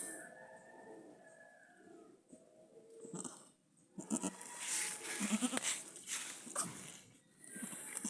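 Goats bleat repeatedly at close range during a goat birth in Jamaica, high wavering calls overlapping with some rustling and movement, with a few softer cries mixed in.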